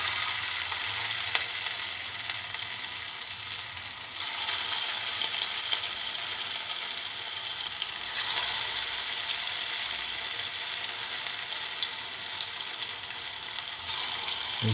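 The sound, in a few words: cottage cheese, fenugreek leaf and chickpea fritters frying in oil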